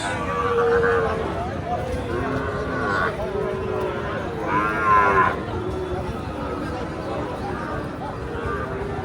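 Cattle moo several times in long, drawn-out lowing calls at a cattle market, heard against a steady background of voices and outdoor bustle.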